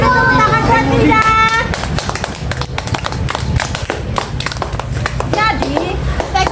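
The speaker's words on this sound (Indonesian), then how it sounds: "Beri tepuk tangan buat Ida." A class group claps together for several seconds, a dense patter of hands, with voices talking before and after the applause.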